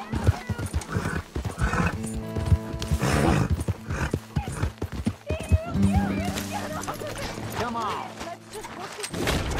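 A horse gallops along a trail in Red Dead Redemption 2, its hooves clip-clopping in a steady, close rhythm with occasional whinnies. Voices talk over the hoofbeats throughout.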